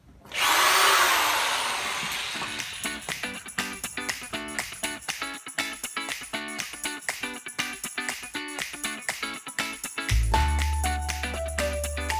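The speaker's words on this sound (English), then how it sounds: "and do a corded hammer drill" A corded hammer drill bores into a concrete slab with a loud, rapid hammering buzz that runs on at close range, then drops to a different steadier tone near the end, with no speech.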